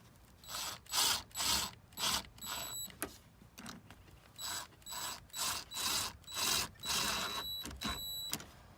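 A ratchet cranks down the bolt on an off-road fire extinguisher mount, with close, loud bursts of rapid clicking in about a dozen short strokes separated by brief pauses.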